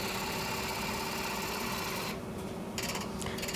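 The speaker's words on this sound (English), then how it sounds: "I'm going to start with my big bowl gouge, try to true it up, make it turn round" Wood lathe spinning a piece of cracked, warped, green firewood while a big bowl gouge trues it up: a steady, loud mechanical whir with a continuous hum throughout, changing briefly as the cut shifts, no talk.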